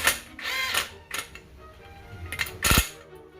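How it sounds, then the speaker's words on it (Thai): A lock nut on a rear derailleur gear cable is tightened with a tool, giving several close, sharp metallic clicks and ratcheting scrapes in short bursts, with a louder clack near the end and no voice. "ตัวนี้ต้องขันให้ตึงไปเลยนะครับ ขันให้ตึงเลย"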